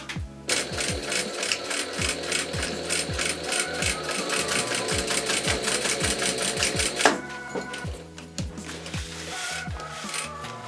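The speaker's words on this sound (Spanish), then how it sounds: "En los dos extremos realizamos una costura encima de la que ya teníamos" Sewing machine stitching a seam on a fabric bikepacking stem bag, a fast steady mechanical whir with rhythmic needle clatter, close and loud, briefly pausing before resuming.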